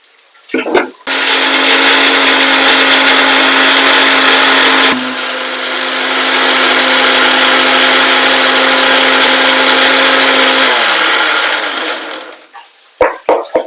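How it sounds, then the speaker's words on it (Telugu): A mixie mixer grinder grinding a spice paste of coriander seeds, cumin and onion for a fish curry, a loud steady motor whine that dips briefly midway, then winds down and stops, with a few clatters at the start and end. "ఇప్పుడంతా మిక్సీ పేస్ట్ పట్టుకున్నాము."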